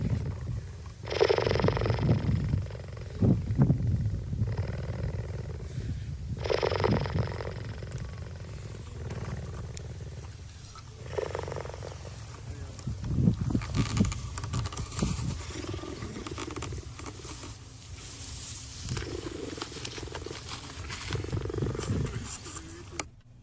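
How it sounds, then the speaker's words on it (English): A cheetah purrs in long, rough, rumbling bursts with short pauses between them, fairly close, with background noise and handling sounds mixed in. "So that's what a cheetah purring sounds like."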